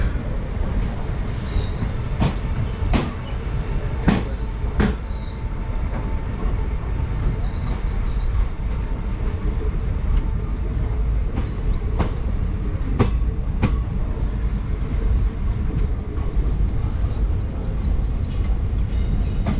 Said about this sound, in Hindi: और अभी हो चुके हैं 7:55 और उडुपी से ट्रेन निकल चुकी है।